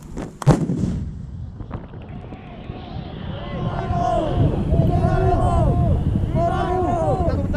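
A 155 mm army artillery cannon fires during a live-fire drill in Aceh: one sharp, loud blast near the start, followed by a long rumbling echo. Shouting voices and crowd chatter fill the rest of the clip.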